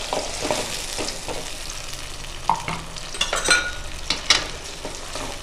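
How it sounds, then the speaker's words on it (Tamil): Tomato paste sizzles and fries with sautéed onion and garlic in hot oil for a Tamil oil-brinjal kulambu, with a steady crackle broken by several sharp stirring scrapes of a spoon against the pan, close and fairly loud, no talk. "தக்காளி நல்லா வதக்கிக்கலாங்க."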